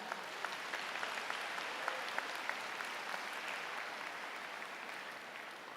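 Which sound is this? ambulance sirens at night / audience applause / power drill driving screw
audience applause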